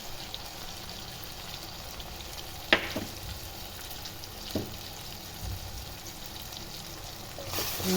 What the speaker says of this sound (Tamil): இப்போ இந்த அரைச்ச வெங்காய விழுமே இதில் போட்டுக்குவோம்.